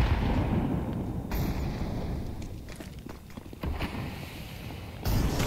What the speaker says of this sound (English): Nades come through.